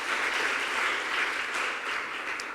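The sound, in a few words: audience applause for the competition winner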